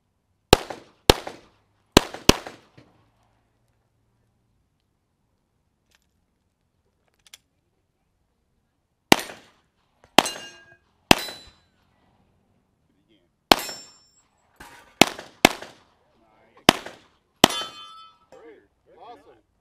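Sharp, loud gunshots crack at a shooting range in short bursts: a quick cluster of about five shots, a pause with one faint distant pop, then another rapid string of around eight shots with ringing tails.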